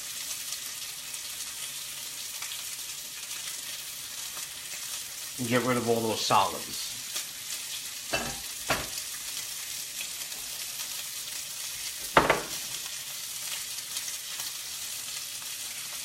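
Red wine reduction poured into a hot pan, giving a steady sizzle and frying hiss throughout, with a few louder bursts of clatter and liquid splashes while a person talks.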